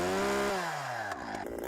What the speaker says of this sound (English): The Husqvarna 371 XP springs to life in Quebec's dense forests,